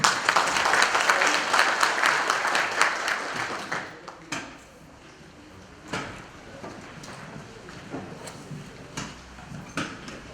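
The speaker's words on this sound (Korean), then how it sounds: "힘찬 박수로 이성인 위원장님을 맞이해 주십시오" Applause at a union delegates' convention starts as a dense round of clapping, then thins after a few seconds into scattered individual claps and a quiet room.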